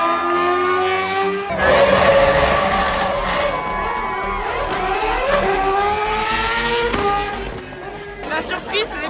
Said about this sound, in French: Écoutez-moi ce moteur, c'est ce qui se fait de mieux dans cette discipline.